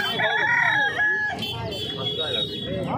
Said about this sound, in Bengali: তো বন্ধুরা দেখতে পাচ্ছ অনেক দেশি মুরগি রয়েছে